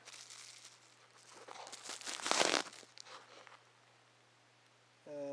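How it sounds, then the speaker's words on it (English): Plastic Ziploc packaging with bubble wrap is handled close up, giving soft crinkling and rustling that peaks in one louder crunchy burst before settling into faint handling noise. "inside the envelope is the plastic packaging, Ziploc bag"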